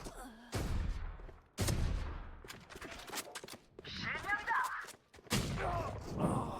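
Gunfire in the video game Valorant comes in sharp bursts of shots with gaps between them, heard under a player's voice and other in-game sounds.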